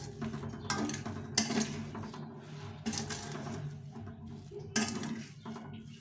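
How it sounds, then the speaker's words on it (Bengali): Grated carrot stirred into flattened rice (chira) in a pan, a spoon scraping and clinking against the metal in repeated strokes, with sharper knocks every second or so, fairly quiet and close. "তো এইভাবে করে গাজরটাকে ভালো করে মিশিয়ে নিতে হবে।"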